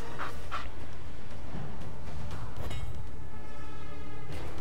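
A dog pants fast and loud in the South Park video game, rhythmic breathy huffs with a few whimpers, set against game noise and no talk.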